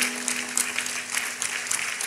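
Church congregation standing and clapping in praise during a Spanish-language service, a dense, lively round of hand claps with scattered sharper claps, fairly loud and continuous, a faint steady tone humming underneath.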